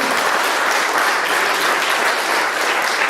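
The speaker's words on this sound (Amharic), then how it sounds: "እስቲ ስለ መዳናችሁ አጨብጭቡ" Steady, dense clapping from a large crowd, sustained and loud throughout with no pauses.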